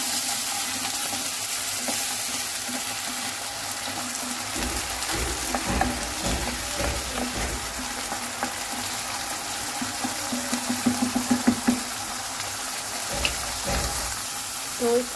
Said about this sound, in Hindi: तो ये अनियन फ्राई हो गए